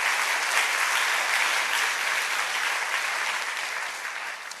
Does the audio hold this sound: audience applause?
yes